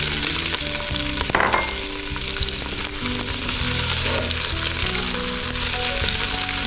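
Colored bell peppers drop onto frying onions for sweet and sour chicken, producing a steady, close sizzle with occasional stirring scrapes and soft music beneath.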